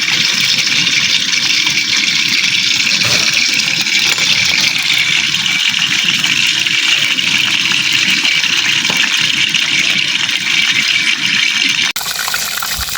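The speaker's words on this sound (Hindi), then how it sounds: "ये पानी आ गया है बहुत ज़ोर से एकदम से अचानक से" Heavy water rushes in suddenly during a storm, a loud, steady roaring gush close by that carries on without letup and shifts abruptly near the end.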